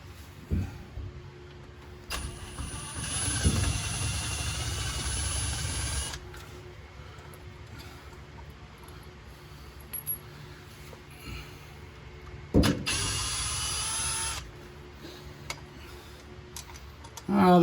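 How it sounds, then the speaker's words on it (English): A power drill works as an impact driver on an 1981 Chevrolet Monte Carlo with a 355 small-block V8, two separate bursts of buzzing motor running a few seconds each, separated by quiet workshop ambience with faint ticks. "And by impact, I mean my drill."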